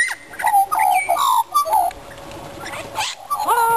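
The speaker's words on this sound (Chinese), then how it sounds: "把林子里的鹦鹉什么鸟全招来。" Wild parrots calling in hillside woods near Perth, several close, loud whistling and squawking calls in quick bursts with short pauses between them.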